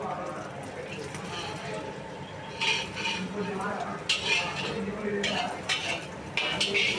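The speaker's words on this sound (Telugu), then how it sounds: "ఎగ్గుని ఫ్రై చేసుకోవాలి" An egg fries in a hot pan while a spatula scrapes and clatters against the metal in irregular bursts, with a faint sizzle underneath.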